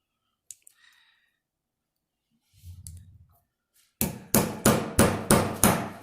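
A few light taps, then six sharp hammer blows drive pins into a wooden pocket knife in a steady rhythm, close and loud, each ringing briefly before the next.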